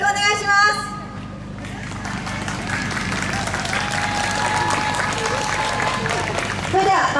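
Crowd noise fills an outdoor yosakoi dance festival venue on a Yokohama shopping street, with a steady wash of applause and cheering from the audience under an announcer's voice.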